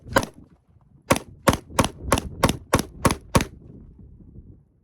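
Glock 43X pistol firing: one shot, a pause, then a rapid string of about eight sharp, loud reports at an even quick rhythm, each with a short ringing tail.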